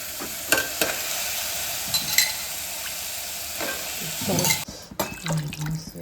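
Sizzling in a pan with scraping stirs, then a burst of water hitting the hot food and hissing near the end.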